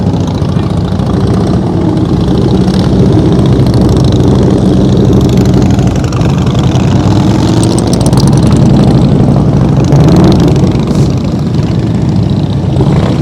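Harley-Davidson Fat Boy motorcycle engine at slow speed on a practice course, a steady low idle-like rumble mixed with other nearby engine noise, loud and continuous without talk.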